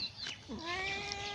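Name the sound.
cat meowing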